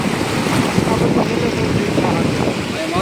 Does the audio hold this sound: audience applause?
no